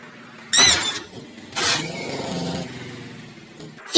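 A Ford Ka rolls over a speed bump, a sharp squeal, then thumps and a low engine rumble as the car passes close by, ending with another abrupt burst.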